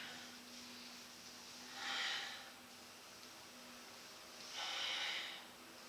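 Two slow, breathy exhales during a lower back exercise, soft hissing breaths spaced a few seconds apart over a quiet background.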